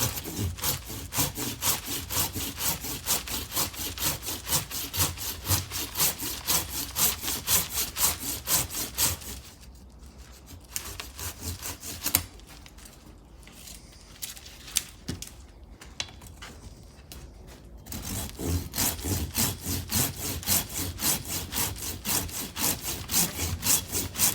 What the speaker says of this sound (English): So I'm going to cut it there and cut it here.